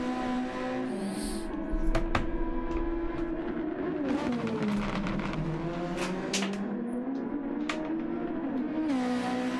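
SF23 race cars lap a circuit in Canada, faster cars mixing with back markers, engines droning steadily at high revs with pitch rising and falling through gear changes, a continuous loud roar from several cars passing at a distance.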